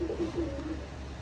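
A recovering pet pigeon gives a short, soft cooing call, a few pulsing notes near the start that fade over a low steady background hum.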